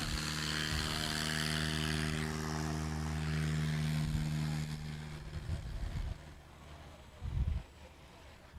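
A small propeller airplane drones loudly at the Sun 'n Fun airshow in Paradise City, its steady engine tone fading after a few seconds, followed by a few closer thumps and bumps.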